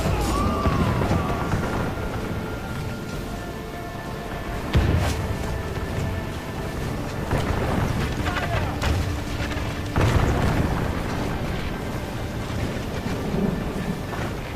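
Artillery gunners firing in a Medieval II: Total War battle, heard as a dense, continuous rumble of battle noise. A few heavy booms stand out, near and loud throughout.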